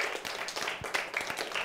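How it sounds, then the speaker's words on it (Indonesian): Brief scattered hand claps from a pupil in an online primary maths lesson, quiet and close, a few sharp taps spread over under a second or two. "Tepuk tangan untuk diri awak."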